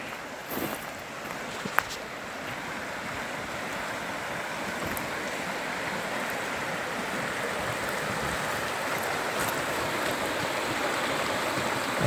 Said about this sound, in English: Then we go out, and we're right out here to the river.